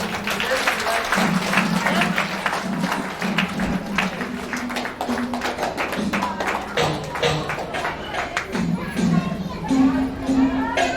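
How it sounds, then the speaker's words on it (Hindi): Audience applause at a company foundation day celebration in a hall, steady and sustained for the whole stretch, with a voice and a musical tone running underneath. "आप सभी लोग हमारे साथ देंगे जोरदार तालियों के साथ"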